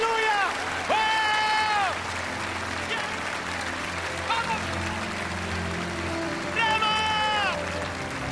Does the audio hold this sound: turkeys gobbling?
no